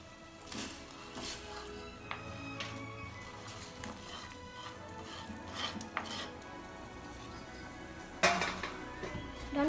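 A spoon stirs brown sugar into boiling water in a pot, making intermittent metallic scrapes and clinks against the pot over a low simmering background, with a louder clatter near the end.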